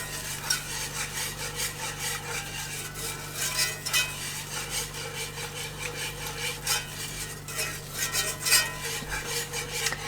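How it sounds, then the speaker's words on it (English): Spoon scraping and rubbing steadily around a pot of chicken and rice as milk is added bit by bit, continuous close stirring with a low steady hum underneath. "adding a little bit at a time, stirring as we go"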